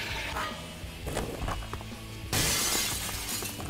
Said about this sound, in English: That glass is loud as fuck.